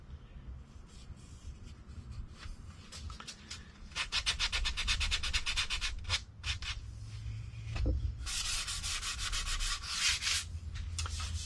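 Sandpaper of 220 grit rubbing over a guitar kit body for a Les Paul–style build, with steady back-and-forth scratchy strokes that come in bursts and grow louder in the middle, no voices heard.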